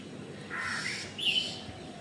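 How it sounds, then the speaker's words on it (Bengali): Crows perched in a row at a rooftop garden during rain give two short, bright calls, the second a little louder, over a steady wash of background noise. "কাকগুলো সব লাইন দিয়ে বসে আছে এখানে।"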